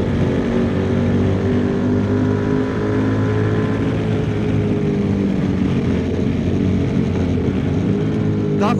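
A QJ Motor SRT 800 motorcycle's engine and exhaust drone steadily and loudly throughout, a continuous low rumble with wind noise, suggesting riding at speed on a road.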